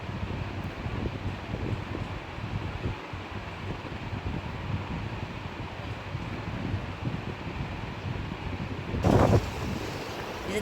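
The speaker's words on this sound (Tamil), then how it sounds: "இது கடல்." Sea waves at Kanniyakumari give a continuous, moderate rushing wash mixed with wind buffeting the microphone, with a brief louder gust near the end and no talking.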